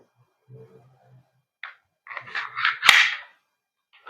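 A KJ Works CZ P-09 airsoft gas blowback pistol fires a sharp, close snap amid a few scattered clicks and handling noises, otherwise quiet.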